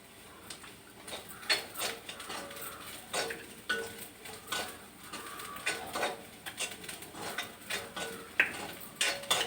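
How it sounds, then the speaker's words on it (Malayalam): Grated coconut roasting in a pan, stirred with a steady run of scraping clicks and taps from the spoon against the metal, close and fairly quiet, with no talking. "വറുത്ത് വറുത്ത് വറുത്ത് വരുന്നു തേങ്ങയൊക്കെ വറക്കണം"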